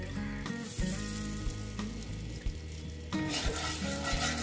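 Salt sizzling in hot oil in a kadai before pomfret fish goes in for macher jhal, a steady crackling fry with spatula knocks and stirring, close and moderately loud, with no speech.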